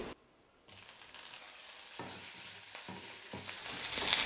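Green chillies sizzling in oil with chickpeas for sundal, a steady hiss that cuts in after a brief quiet start, broken by several stirring scrapes and gradually growing louder, close and without talk.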